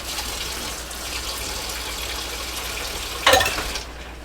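A quarter cup of water is poured into cornstarch while cooking stuffed quail, a short splashing pour near the end over a soft steady background hiss.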